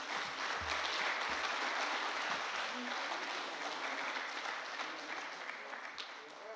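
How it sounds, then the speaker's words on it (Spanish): An audience at an official recognition ceremony for a state public security director in Puebla applauds, a dense, steady wash of clapping that slowly fades, with a voice briefly heard beneath it. "Damos un aplauso"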